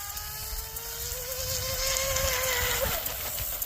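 Whining high-pitched electric motor of an RC shrimp rigger boat with a 5250kv TP Power motor, running at part throttle on the water, steady with slight pitch wavering, then dropping off sharply near the end.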